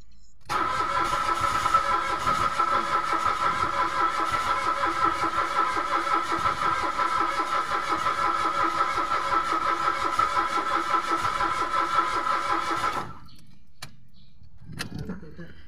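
Mitsubishi Mirage with automatic transmission cranking without catching, a steady, loud starter-motor whir that runs unbroken for about twelve seconds and then cuts off, followed by near silence and a faint thump.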